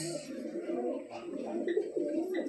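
Tailmark and Red Lahori pigeons coo softly in low, rolling murmurs close by, with someone talking over them.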